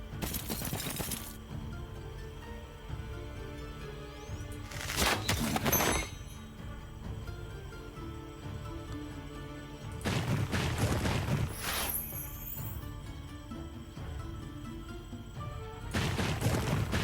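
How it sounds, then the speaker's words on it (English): An energy explosion spell goes off in the video game Heroes of Might and Magic Olden Era: four loud, crashing bursts about five seconds apart, each with a shattering, sparkly edge, over steady game music and no talk. "Let's actually use the energy explosion"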